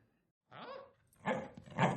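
A dog gives a soft whimpering yelp, then two louder short barks in quick succession, close by and clear against an otherwise quiet room.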